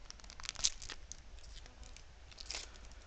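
A Yu-Gi-Oh Generation Force booster pack being torn open, with quiet crinkling foil and a sharp rip near the start followed by lighter rustles, close and faint with no speech.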